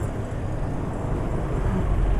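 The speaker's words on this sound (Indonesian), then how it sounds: "suara mesin emang waktu nyala pertama agak kasar" A car engine fed Mesran SAE 40 oil mixed with two-stroke oil idles roughly just after first start, a dense, steady low rumble heard close up with no one talking.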